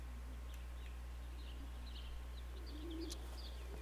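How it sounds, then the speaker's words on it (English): Birds coo softly and faintly in the forest of Tipworth in the game Everybody's Gone to the Rapture, a few low calls and light chirps over a quiet, steady ambient hum. "I look to my birds, Father."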